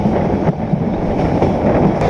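A train rolls slowly past a station, a steady dense rumble with faint rhythmic clatter of the wheels, loud and close, with no voices.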